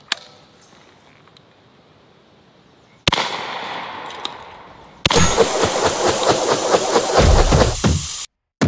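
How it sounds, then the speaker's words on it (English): Shotgun fired at pattern targets, heard as sharp broadband blasts with a loud roaring wash after the second, set outdoors at a range; no talk. "Can I take these out in two shots without having to move up further?"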